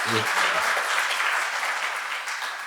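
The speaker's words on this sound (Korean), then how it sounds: "유익한 강의해 주신 오 단장님께 뜨거운 박수 한번 보내주시면 감사하겠습니다" An audience at a corporate governance and economics seminar gives a lecturer warm applause. A brief voice opens the clip, then dense, close clapping carries on and slowly tapers.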